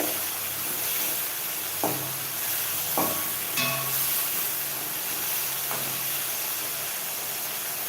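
Girmitt mixture with jaggery bubbling in hot oil in a pan while being stirred, a steady frying sizzle and hiss with a few brief scraping clinks of the spoon against the pan, with no talking.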